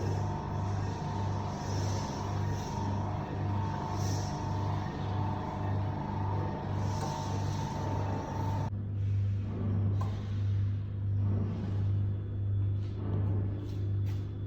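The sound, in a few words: ChocoMan 30 Deluxe chocolate tempering machine wheel turning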